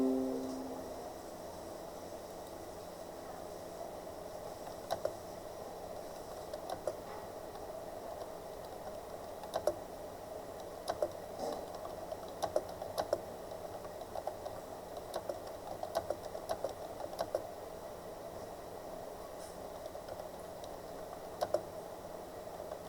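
Computer keyboard keys tapped in scattered light clicks over a steady background hum, fairly faint and without speech, while English text is typed and converted to Hindi.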